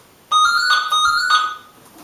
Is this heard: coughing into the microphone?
no